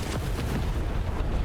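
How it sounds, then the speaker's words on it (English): Bombs and explosions rumble in a War Thunder tank battle, a dense, continuous low booming bed of blasts with no clear single hits standing out. "helicopters crashing, bombs, explosions everywhere"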